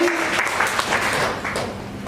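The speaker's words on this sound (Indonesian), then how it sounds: "Tepuk tangan buat Yesus." Audience applause fills a church gathering, a dense wash of clapping hands that holds steady for about two seconds at moderate loudness.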